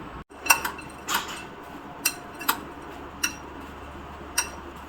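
A spoon clinks against a bowl several times at an uneven pace while dry fruit powder is mixed for makhana kheer, close and moderately loud over a quiet kitchen background.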